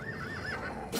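A horse in a video game lets out a single loud, wavering whinny that rises and falls, with a sharp burst of noise right at the end.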